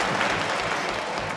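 A short burst of dense audience applause at a 2009 Hitchens–D'Souza debate, many hands clapping at once, loud and steady throughout.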